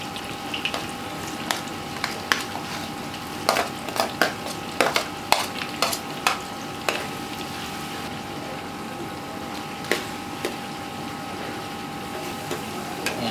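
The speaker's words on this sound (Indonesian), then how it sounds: "Goreng bawang putihnya dulu." Garlic frying and being stirred in a pan while cooking for a large neighborhood feast, with a steady sizzle broken by irregular sharp clinks and scrapes of a utensil against the pan.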